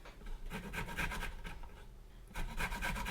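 A small handheld zester rasps against a lemon in quick repeated scraping strokes, close and fairly quiet, with a short pause before another burst of rubbing.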